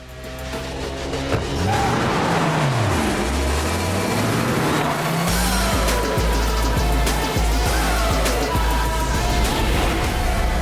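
A car engine revs hard and accelerates, its pitch sweeping up and down in loud surges, with a few sharp knocks and thumps mixed into the roar.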